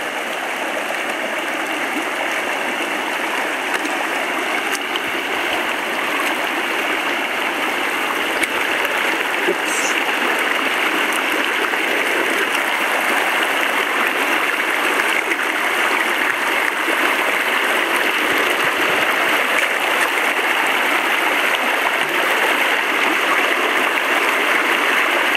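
A mountain creek rushes steadily over rocks near Browns Falls, a continuous broadband wash of water that stays close and loud for the whole stretch with no voices.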